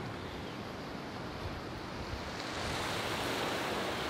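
Rough morning surf breaks steadily on a beach beside a fishing pier, a continuous broadband wash of waves with wind noise, swelling slightly louder toward the end, with no voices.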